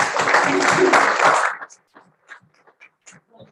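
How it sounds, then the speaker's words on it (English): Panel session audience gives a round of applause for a speaker, a loud wash of many people clapping for about a second and a half, then cutting off to a few faint murmurs and stray sounds. "I think we should have a round of applause."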